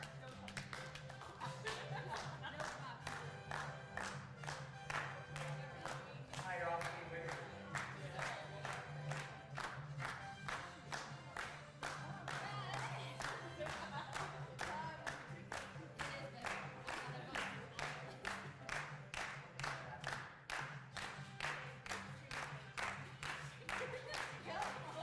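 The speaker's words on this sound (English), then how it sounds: "Come on, clap." Audience at a Giving Day game show marathon claps in a quick, steady rhythm for the whole stretch, close and fairly loud, mixed with music and people talking over it.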